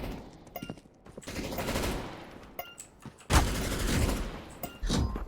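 Automated turret gunfire on the CS:GO Danger Zone map Frostbite, rapid bursts of shots in several loud stretches, broken by short pauses.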